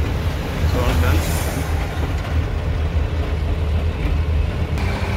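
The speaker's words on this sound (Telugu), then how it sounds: "ట్రైన్ వెళ్ళిపోతుందండి" A train rolls past near a toll gate with a steady loud rumble and low wheel noise filling the whole stretch, heard from close by.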